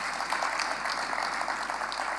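Steady applause from a crowd at a diaspora forum fills the whole moment, even and moderately loud.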